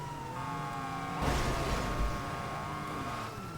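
A police car in the video game GTA drives and rolls over, a steady engine drone with high whining tones, plus a loud crunching burst of impact noise partway through.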